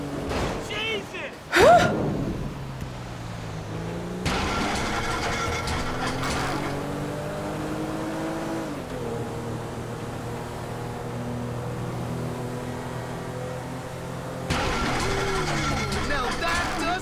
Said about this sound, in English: Now that doesn't sound good! Hey, that's the engine, man!